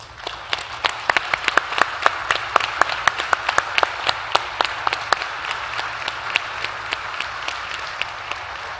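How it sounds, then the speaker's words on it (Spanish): An audience at the CADE 2022 conference applauds steadily, a lively stretch of many hands clapping with sharp individual claps standing out near the front, sustained for nearly nine seconds. "quiero pedir un aplauso para ella y para todos los servidores públicos"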